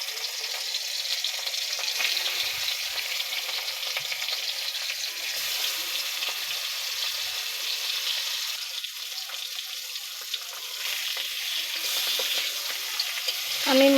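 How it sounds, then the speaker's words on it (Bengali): Rohu fish pieces fry steadily in oil, a dense, continuous hiss and crackle that stays loud and close throughout, with no talk. "আমি মাছগুলো প্রথমে ভাজিয়ে নেব।"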